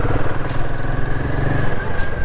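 A motorcycle engine drones steadily nearby on an Indian road, a loud, continuous mid-pitched rumble with a slight throb.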